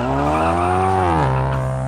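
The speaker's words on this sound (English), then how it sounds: "The engine revs, boost builds, and as soon as you let that paddle go," A 2018+ Ford Mustang EcoBoost revving hard on a transbrake before launch, a steady loud engine tone rising and then dropping sharply near the end, close by with no talk.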